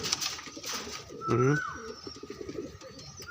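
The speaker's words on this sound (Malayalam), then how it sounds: "നല്ല നല്ല പ്രാവുകളാണ്." Pigeons kept at home coo close by in a short, throaty bubbling phrase, with soft chirps and someone talking quietly over the birds.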